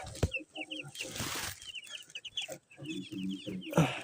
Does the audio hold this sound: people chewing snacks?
no